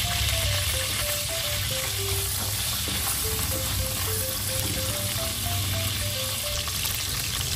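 Onions sautéing in a pan give a steady, close frying sizzle, with a soft melodic tune playing faintly over it throughout.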